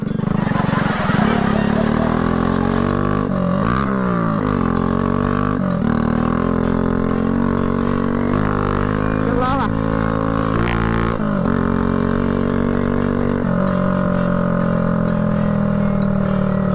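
An old 1990s Honda Chaly motorcycle with a three-speed gearbox runs continuously close by, its engine note rising and falling with throttle and shifts, loud throughout with faint voices underneath.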